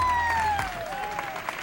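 A crowd applauding at a Tetris tournament, a dense continuous patter of clapping throughout, with a falling tone from the game sounding over it at the start.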